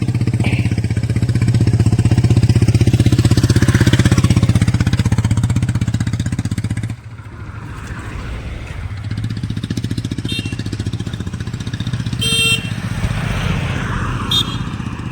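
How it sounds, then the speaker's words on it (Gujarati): A motorcycle pulls up on a road in heavy rain, its loud engine drone running for several seconds before dropping away, then a quieter rumble and clatter continue. "મોટરસાઇકલ લઈને, બાઇક લઈને આવે છે."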